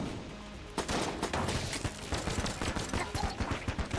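Rapid gunfire and explosive blasts in the video game Enter the Gungeon, a dense flurry of overlapping shots at moderate volume that keeps going without a break under game audio.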